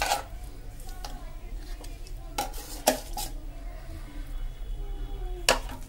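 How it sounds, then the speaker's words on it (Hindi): A utensil scrapes and stirs moong dal through melted ghee in a pan, with soft continuous scraping and occasional sharp metal clinks against the pan over a low background hum. "इसको हम मिक्स कर लेंगे।"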